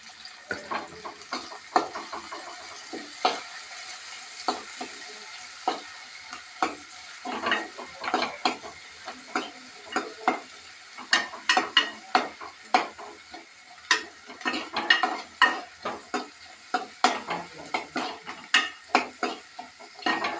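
Shallots, green chilli, curry leaves and crushed garlic frying for an anchovy dried-fish curry, with repeated stirring scrapes and clinks of a spoon against the pan over a steady sizzle, close and alone.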